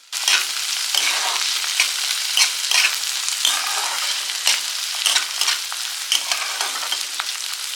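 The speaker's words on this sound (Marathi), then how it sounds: "आता आपण त्याच्यामध्ये बारीक चिरलेला टोमॅटो टाकणार आहोत। तोही परतून घेणार आहोत।" Finely chopped tomato and onion sauté in a hot pan for a masala brinjal dish, a steady sizzle broken by repeated scraping stirs, close and with no talking.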